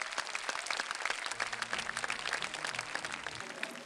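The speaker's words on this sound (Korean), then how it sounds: "박수로 환영해 주시기 바랍니다." Audience applause welcoming a county governor to the stage at a Buddhist cultural festival in Sancheong, a steady burst of many hands clapping, moderately loud and continuous for several seconds.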